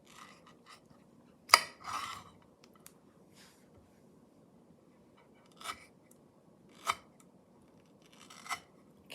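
A knife slices through a fibrous mango, giving a handful of short, close rasping cuts spread apart by quiet pauses, with no talking.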